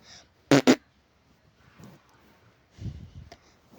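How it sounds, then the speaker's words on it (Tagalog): Two quick, loud, close raspy fart bursts ring out back to back, followed by quieter rustling and low thumps. "may narinig siyang utot"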